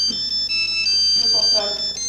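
A mobile phone rings with a high electronic ringtone in bright repeating tones, while someone speaks over it.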